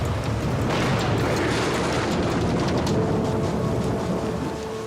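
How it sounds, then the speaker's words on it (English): A loud, sustained low rumble of thunder mixed with dense rain noise, rolling on without a break. "I don't think I've ever heard thunder like it."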